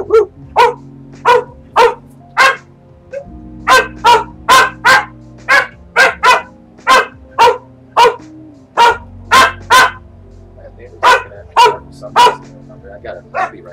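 A puppy barks in a steady run of short, sharp yips, roughly one or two per second, close and loud, with a faint steady hum and background sound running underneath.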